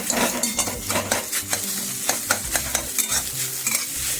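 A utensil scrapes and stirs rhythmically in a hot pan while egg sizzles and fries steadily underneath.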